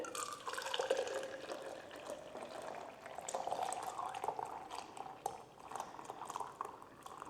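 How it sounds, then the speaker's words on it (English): Panna cotta mixture is poured through a strainer into a jug in a home kitchen, giving a steady close trickling and splashing of liquid with small drips. "now is the time to strain it as you pour it into your jug to remove any lumps"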